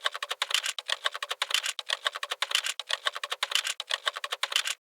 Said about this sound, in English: Therefore, I will type it.